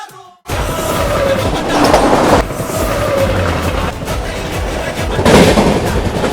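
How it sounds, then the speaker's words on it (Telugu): The Bhubaneswar–Pune superfast express train running on the rails, loud and close with a continuous rumble and rhythmic clickety-clack of the wagons. "ట్రావెల్ చేసిన ట్రైన్ వచ్చి 2288 భువనేశ్వర్ నుంచి పూణే మధ్యలో అయితే నడుస్తుంది సూపర్ ఫాస్ట్ ఎక్స్ప్రెస్."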